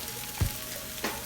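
Diced garlic sizzling in a hot pan, a soft steady frying hiss with two brief louder pops or stirs, close and alone without talk.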